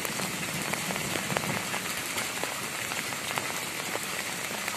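Strong garden rain patters densely on surfaces, a constant close hiss sprinkled with sharp individual drop hits, with no talking.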